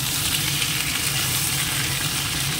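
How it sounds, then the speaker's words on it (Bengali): Young cucumber pieces hit hot tempering oil in a pan, giving a loud, continuous close sizzle that holds steady throughout. "আজকে একবারে ফোড়ন দিয়ে বসাবো।"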